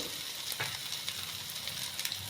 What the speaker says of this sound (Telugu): ఉల్లిపాయ ముద్ద ఇలాగ ఆయిల్ సెపరేట్ అయ్యేదాకా వేయించుకుంటే మనకు మసాలా పచ్చివాసన ఉండదు